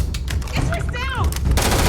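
Loud, close gunfire in the space RPG Starfield: rapid overlapping shots in a short burst, with a faint voice underneath.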